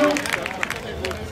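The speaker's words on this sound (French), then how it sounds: "Oui, applaudissements!" Audience at a chainsaw competition in Saint-Célestin clapping and murmuring, a dense crowd of applause mixed with babble and voices, fairly loud and continuous through the short stretch.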